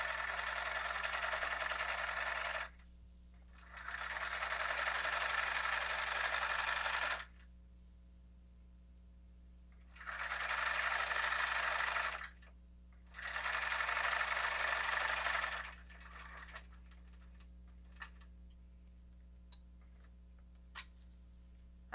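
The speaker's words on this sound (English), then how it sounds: "I have a setting on my sewing machine that stops the needle in the down position so that I can lift and turn." A domestic sewing machine stitches a cloth diaper in bursts, four loud runs of steady whirring separated by pauses, then a few light clicks as the needle stops and the fabric is turned, over a low constant hum.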